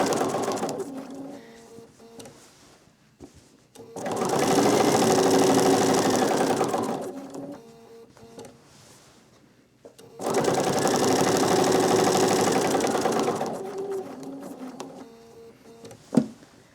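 A sewing machine quilts fabric patches onto a pillow top in two long, steady bursts of whirring stitching separated by quiet pauses, close and fairly loud.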